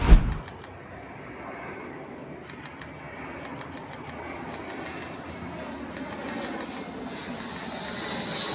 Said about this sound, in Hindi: सुखोई 35 ईरान की फिजाओं में आसमान में गरजता हुआ नजर आया है।